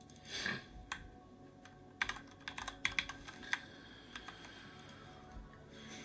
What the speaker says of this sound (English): I need to learn how to type and talk at the same time.